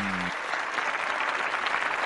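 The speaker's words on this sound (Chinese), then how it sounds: "我们掌声欢迎来自西班牙的弗朗西斯科" Applause from a fight-night crowd welcomes a 28-year-old Spanish fighter, Francisco, to an MMA bout, a dense, steady roar of clapping that fills the space from start to finish after a brief tonal tail at the opening.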